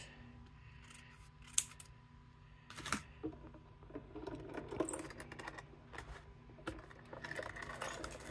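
Scissors trimming card paper: quiet, scattered snips and paper rustles, with a few sharper cuts standing out against near silence.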